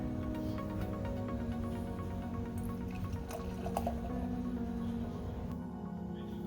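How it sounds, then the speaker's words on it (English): Creature Comforts Lupulus beer poured from the bottle into a glass, a steady liquid glug and fizz running continuously at moderate level for several seconds, with no talking. "Let's go ahead and pour this and see how it looks."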